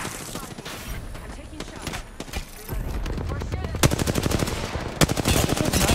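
Rapid automatic gunfire in Apex Legends, dense crackling bursts that grow louder and more continuous toward the end, with brief pauses between volleys and voices faintly underneath.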